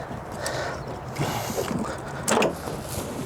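A ratchet with a 5-inch extension tightens a spark plug on a Lexus engine to 15 foot-pounds, producing quick mechanical clicking and grinding in short uneven bursts up close, with faint shop background noise.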